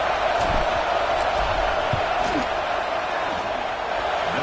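A college football stadium crowd roaring during a field goal try in a Utah at Arizona State game, a steady, dense wall of crowd noise heard from a distance with a commentator talking over it.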